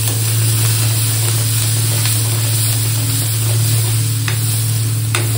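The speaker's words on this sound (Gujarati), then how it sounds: "ડુંગળી નાખી દઈશ." Onions fry in hot oil in a pan with cinnamon and chopped chillies, giving a loud, steady hiss and sizzle up close over a low hum, with faint occasional stirring clicks and no voices.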